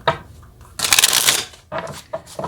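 Tarot cards being shuffled in bursts, a long loud riffle in the middle followed by shorter flicks and shuffles, close and alone with no talking.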